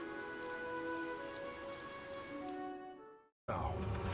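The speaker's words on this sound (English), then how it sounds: "This rain threatens a coming storm." Steady rain patters in the video game Fire Emblem Three Houses over a sustained musical tone, breaking off into a moment of silence before a louder, denser rush returns.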